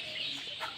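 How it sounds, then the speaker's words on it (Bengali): Broiler chickens in a village farm shed make faint, brief clucking and murmuring calls, heard at a moderate distance for under a second. "এ বড় বড় ব্রয়লার মুরগি"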